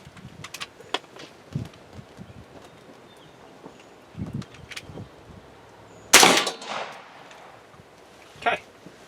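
A 300 Blackout rifle fires at a meat target outdoors, one sharp, loud report near the middle standing out above quieter scattered knocks and movement, with a fainter crack near the end.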